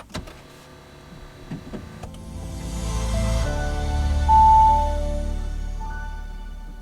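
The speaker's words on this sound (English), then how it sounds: "it moves the seat back to your driver's profile" An Audi e-tron's power seat motor whirs steadily as the seat moves into a driver profile position, a soft, close mechanical hum that swells and holds. A few light clicks and a brief chime tone come first.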